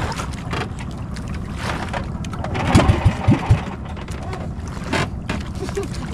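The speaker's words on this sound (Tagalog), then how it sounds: "Hindi pa makisama tong makina na to." A fishing boat engine chugs with an uneven, sputtering rhythm, a few louder knocks rising midway, under wind and water noise out at sea while hunting skipjack tuna.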